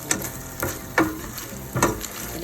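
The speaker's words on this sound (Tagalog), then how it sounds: "Ito na rin tayo mag-igisa" Ginger, garlic and green onion sautéing in a wok: a close, steady sizzle broken by four quick scraping stir strokes in an uneven rhythm.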